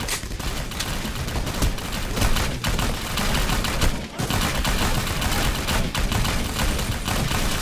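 Dense, continuous gunfire and rapid bursts of fusillade from the Vietnamese war video game 7554, a loud, unbroken barrage of shots throughout with brief dips, no clear talk.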